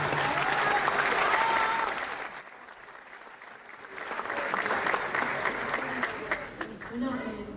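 An audience at a live concert in a municipal theatre claps loudly, briefly fades, then returns as steady sustained applause, with voices mixed in.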